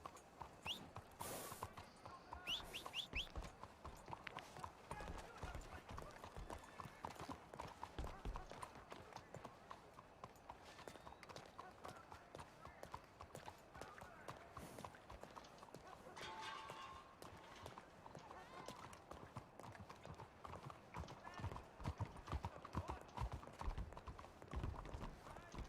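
Horse hooves clip-clop steadily in Red Dead Redemption 2 as the horse walks and trots through a city, a close, rhythmic run of hoofbeats with a brief whinny early on and voices talking over it.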